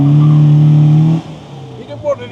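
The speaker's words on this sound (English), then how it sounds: "So who says you can't wheel spin in a B?" A classic MGB with a newly fitted distributor revs hard in a loud, sustained roar for about a second, then cuts off abruptly, leaving quieter background noise and a brief burst of people talking.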